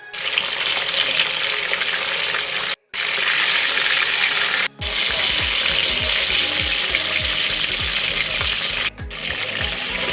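Chicken pieces for a wedding-style chicken roast fry in a second batch in hot oil, a loud dense continuous sizzle, twice cut off briefly, with faint low bubbling beneath and no voices.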